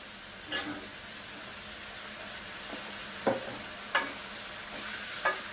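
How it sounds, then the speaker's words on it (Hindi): Capsicum sabzi with green chili paste, turmeric and ground coriander is stirred in a pan: a few distinct scraping strokes, spaced out, over a faint steady sizzle, with no voices. "तो अब इसको मैं फिर चला देती हूँ।"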